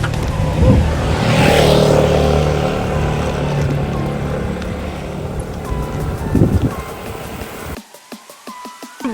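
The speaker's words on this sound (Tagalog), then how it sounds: "Yun lang, may sasakyan." Motor vehicle passing on a road near a climbing spot in Tanauan, Batangas, a broad engine rumble swelling and fading over several seconds, close and loud, ending abruptly.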